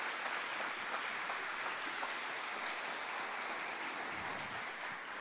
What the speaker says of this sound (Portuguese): Uma salva de palmas para João Batista